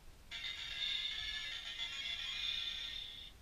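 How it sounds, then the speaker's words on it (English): A Kamen Rider Ex-Aid Gamer Driver toy belt, running on a low battery, plays its short electronic win jingle: a steady high-pitched electronic tone that sounds for about three seconds, close and fairly loud, with no talking. "That was the win sound. Whenever you win, that's what you get."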